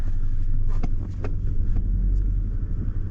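A stuck car in reverse on a slippery surface holds a low, steady engine rumble with a few surging revs, close to the microphone, with faint clicks and wind noise over it.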